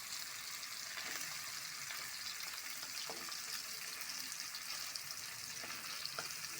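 Hilsa fish frying in cooking oil in a home kitchen, a steady close sizzle and crackle running throughout with faint intermittent clicks and splashes, no talking.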